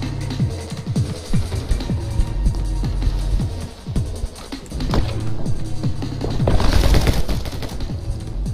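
Rapid gunfire from the video game My Friend Pedro, a dense string of close, loud shots and bursts that keeps going almost without pause, with a heavier flurry near the end and no talking.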